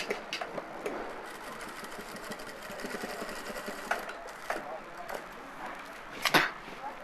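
A sewing machine stitches a shirt sleeve placket with a double row of seams, giving a steady close whir with small rhythmic bumps and a sharper clatter near the end.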